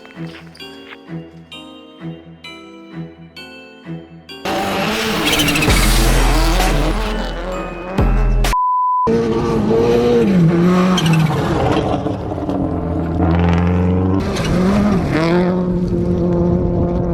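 Colin McRae's works Subaru Impreza WRC rally car, a P8 model, roars past close by with a loud engine surge and shifting revs, preceded by quieter background music.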